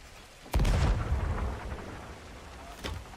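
Cannon fire in the pirate video game Sea of Thieves: one heavy booming shot with a rumbling tail, then a second, quieter blast near the end, with no talking.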